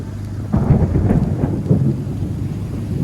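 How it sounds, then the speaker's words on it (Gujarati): Thunder rumbles in a few heavy rolling bursts over steady heavy rain during a storm at sea off Dwarka, loud and close, with the downpour continuing underneath throughout. "વરસાદ પડવા માંડ્યો ફૂલ, વીજળી ને બીજી ધડાકા થાય."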